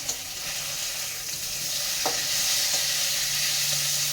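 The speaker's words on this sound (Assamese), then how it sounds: "মাছৰ লগে লগে বেঙেনাও ভাজি হ'ব" Hot oil sizzles steadily throughout as eggplant and fish fry together, with occasional scraping knocks of a utensil stirring food in the pan.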